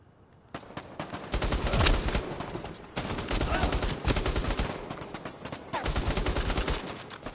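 Sustained automatic gunfire in Bravo Team, a PSVR shooter: long, dense, loud bursts of close rapid shots in three stretches with brief pauses between them.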